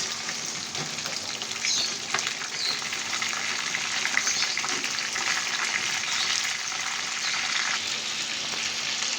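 Pangas fish frying in hot oil gives a steady, crackling sizzle with dense spattering pops, close and continuous, with no voices over it.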